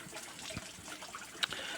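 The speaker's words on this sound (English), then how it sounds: "right now water's running absolutely fine" Water runs through a pond bog filter in a faint, continuous trickle, with a single small splash or click near the end and no one talking.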